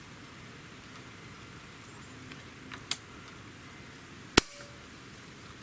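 An airgun fitted with a Cattleman Guns covert moderator fires, giving two short, sharp cracks about a second and a half apart over a low, steady background hiss.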